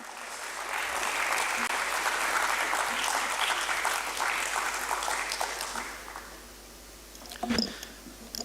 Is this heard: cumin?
no